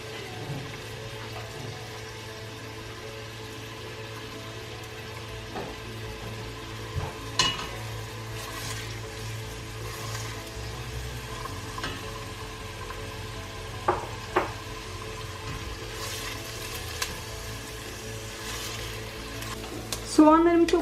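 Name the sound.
onion and garlic frying in a pan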